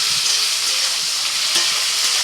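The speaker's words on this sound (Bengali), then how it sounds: "আদা রসুন কুচি একটু ভাজা হয়ে গেলে দিয়ে দিচ্ছি ক্যাপসিকাম, পেঁয়াজ, লবণ, টমেটো কুচি, আর সাথে দিচ্ছি কয়েকটা লঙ্কা।" Capsicum, onion, tomato and chillies frying with chopped ginger and garlic in a pan, a loud, steady close-up sizzle with faint stirring scrapes and no speech.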